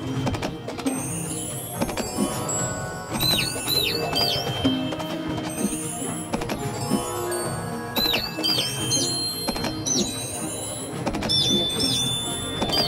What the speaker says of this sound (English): Time for the enemy to take a nap with Fluttershy's lullaby bird song.